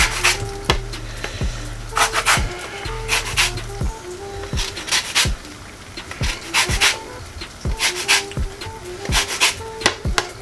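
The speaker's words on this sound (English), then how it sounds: "zest some lemon zest in here. A zest of 1 lemon." A lemon rubbed against a grater for zest in a home kitchen, giving repeated short scraping rasps in quick bursts with small knocks between them, close by and fairly loud.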